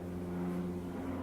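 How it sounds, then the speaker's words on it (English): Firefighting water-scooping aeroplanes training over the sea for forest fires drone steadily overhead, a faint, continuous low propeller hum with no breaks. "is our local firefighters training with these wonderful aeroplanes that scoop up the sea to put out the forest fires"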